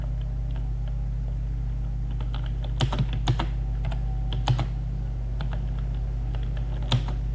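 Keys clatter on a computer keyboard while a Microsoft Word document is being typed, with scattered taps and a few louder strokes like the Enter key, heard alone over a steady low hum.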